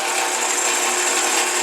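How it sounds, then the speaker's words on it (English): A drill press bores through steel trailer plates with a steady, loud, grinding mechanical whir that holds unbroken and close throughout, with no voices. "we're going to go over to the drill press now"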